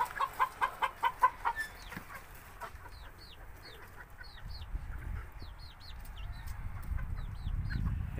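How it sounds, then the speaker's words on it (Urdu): Roosters and hens on a poultry farm cluck in a quick rhythmic run of calls up close, followed by scattered higher chirps over a low rumbling background. "میں آپ کو دکھاتا ہوں چنگے وال مرغے ہیں"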